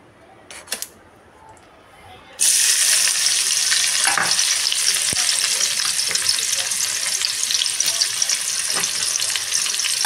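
Sliced onions for biryani hit hot oil in a pan on high flame after a couple of seconds of near quiet, then sizzle and crackle loudly and steadily with occasional stirring.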